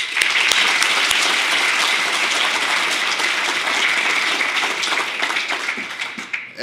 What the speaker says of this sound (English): just give a round of applause to the whole BSides team